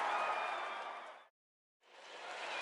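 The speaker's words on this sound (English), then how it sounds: "the Giants, once again, win a game in a very unusual way as this crowd goes crazy" Video game stadium crowd in MLB The Show roaring and applauding after a game-ending play, a loud sustained cheer that cuts out briefly to silence and then returns.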